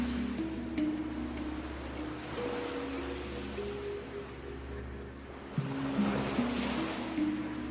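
Steady ocean surf washes in a continuous broad rush, with waves swelling and breaking close by under a low hum and faint tonal hums layered beneath.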